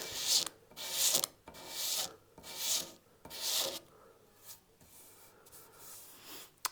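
A razor blade scrapes along guitar binding on a Telecaster body in several short rasping strokes, each a close, dry scratch separated by brief pauses, with fainter scrapes toward the end.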